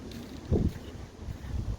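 Low, steady wind rumble buffeting the microphone, with a couple of stronger gusts swelling up partway through.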